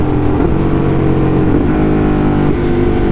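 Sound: Ducati Hypermotard motorcycle revving during clutchless gear shift

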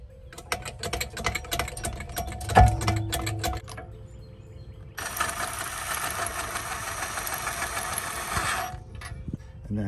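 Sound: pumping a Sprinter jack under the axle

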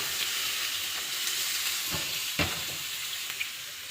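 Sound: frying bori lentil dumplings in a pan

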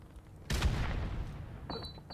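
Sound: grenade explosion in video game Call of Duty 4 Remastered

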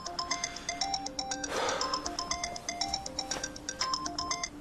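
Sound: phone ringtone

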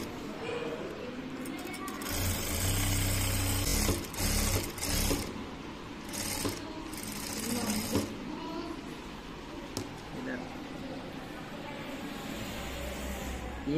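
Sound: sewing machine stitching a shirt front placket

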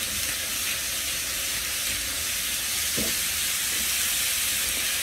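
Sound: sloppy joe meat mixture sizzling in a pan

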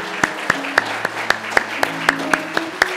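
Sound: applause celebrating Sunday school graduation

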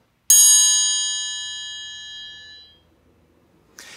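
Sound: homemade triangle tapped with a beater, ringing

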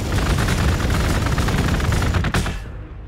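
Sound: gunfire in video game Warhammer 40k: Gladius

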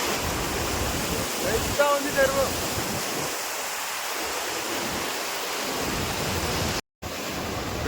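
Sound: water rushing out of a large village lake

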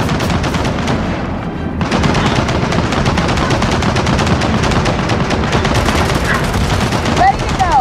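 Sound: machine gun fire in Gears of War 4 video game

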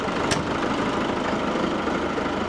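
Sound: tractor engine driving

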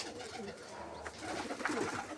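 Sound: pigeons cooing while being fed grain

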